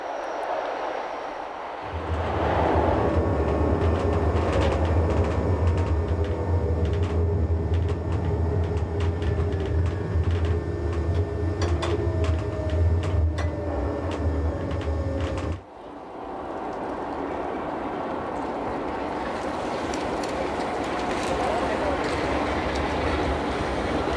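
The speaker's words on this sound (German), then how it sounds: "Bei einem Maximalanstieg von 70 Promille, den steilsten Rampen im ganzen Netz der RHB, wird den Antriebsaggregaten das Äußerste abgefordert." Bernina Express train on the Rhaetian Railway climbing a steep 70-per-mille adhesion ramp, drive units working hard: a loud, steady low rumble and grinding wheel noise with faint squeals, then the train drops to a quieter, lighter running sound.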